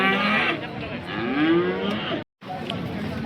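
Cows lowing at a busy cattle market in Sangola, a long rising moo up close over crowd noise and background chatter, followed by a brief dropout.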